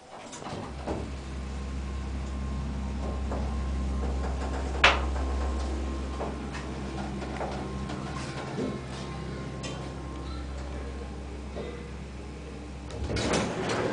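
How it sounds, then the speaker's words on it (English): A massive Dover hydraulic passenger/freight elevator at a natural history museum in Houston runs with a steady low motor hum and rumble, joined by a few clicks and a sharper knock partway through. "And let's listen to the motor."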